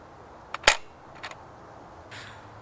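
A Nerf Rebelle Codebreaker toy blaster fires foam darts: one sharp, close snap stands out, followed by a couple of fainter clicks, with no talking.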